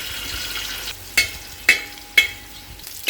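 Coconut pieces fry in a hot uruli pan, a soft steady sizzle broken by four sharp scraping stir strokes at regular intervals.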